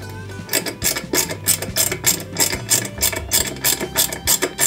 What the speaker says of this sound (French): Alors c'est des grosses vis, on va mettre un petit peu d'huile et on visse ça proprement.